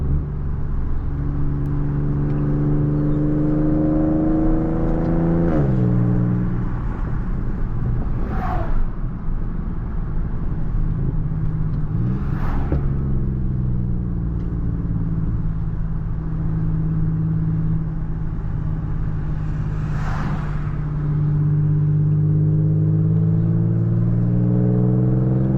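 A car engine revs hard through the gears, its pitch sweeping up and dropping sharply at each of several shifts, with raspy exhaust pops at the changes, close and loud with no talk.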